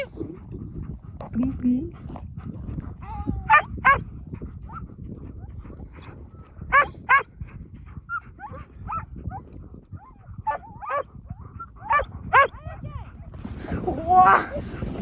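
A dog named Loki barks in short yips and whimpers at intervals, loud and close, while people talk and chatter continuously around it on a ski outing.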